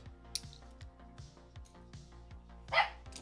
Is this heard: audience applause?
no